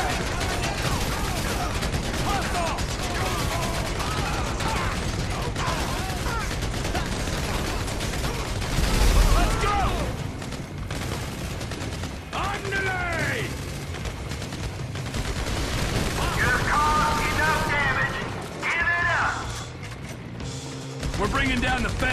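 Sustained gunfire from a Grand Theft Auto 5 bank robbery shootout, dense rattling volleys through most of the stretch with a heavy blast near the middle, mixed with shouting voices and game chatter.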